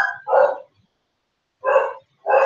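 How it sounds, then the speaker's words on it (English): A dog barks indoors, giving three loud, close barks separated by short silences, the first two close together and the last after a longer pause. "there are dogs that decide to bark when a leaf drops"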